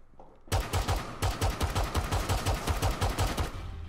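Rapid automatic fire from the ELA gun in Rainbow Six rattles out in a dense, evenly spaced burst of sharp shots after a quiet start, loud and close, with a brief pause before it resumes.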